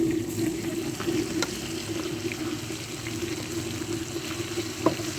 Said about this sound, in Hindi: अदरक लहसुन के पेस्ट को अच्छी तरह से भूनेंगे।